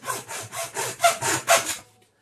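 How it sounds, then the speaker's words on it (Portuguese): A hand saw cuts through a tube in about seven even back-and-forth strokes, rasping steadily and close up, then stops and the clip falls nearly silent. "E este tubo é muito fácil de cortar."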